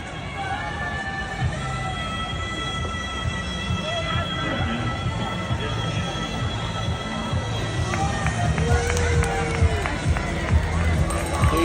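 Spectators line the course at the Marathon of the Palm Beaches on a Sunday morning, cheering runners with a steady crowd roar, shouts and scattered whistles over continuous footsteps and chatter.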